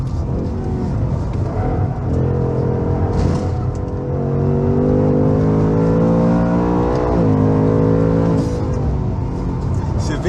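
A Ford Mustang Mach I accelerating hard around the Velo Città race track, its engine note climbing in long sustained pulls with a gear change midway, loud and close throughout.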